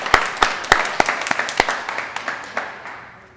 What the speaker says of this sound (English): one last round of applause for the mayor and all these amazing restaurant owners